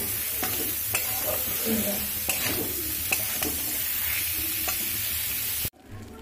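Beetroot cooks in a pan with a little salt, giving a steady sizzle broken by repeated scraping stirs, before the sound cuts off abruptly near the end.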